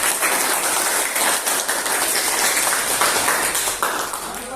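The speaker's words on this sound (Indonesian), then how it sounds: "Tepuk tangan." Classroom applause as students clap for a classmate after a maths answer, a brief burst of hand claps in a room, with some talk underneath.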